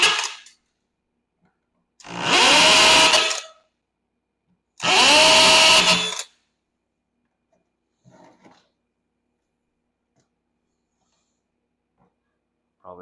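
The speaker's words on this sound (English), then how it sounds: "I'm gonna drill out the charger faceplate right here too" A power drill bores out rivets on an EZGO golf cart charger faceplate in two loud, close bursts of about a second and a half each, separated by silence, followed by faint small clinks.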